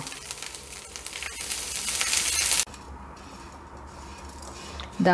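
Grated coconut dry-roasting in a pan for Kerala sadya-style koottukari, a steady close sizzle and crackle that drops sharply partway, then continues softly before a brief clink of a utensil at the end.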